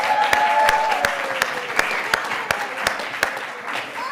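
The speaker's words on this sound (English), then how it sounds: "Another round of applause for our 4 presenters." Audience at a Beth El latke-hamentaschen debate applauds its four presenters, a steady wash of clapping from a crowd with sharper individual claps standing out, lasting throughout.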